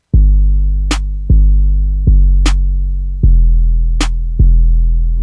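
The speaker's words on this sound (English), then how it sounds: "I just made sure with the snare and the clap together, they sounded nice" In a trap beat, a heavy booming bass hits repeat at a steady pace while a sharp snare and clap layered together crack three times between them, loud and close with no talking.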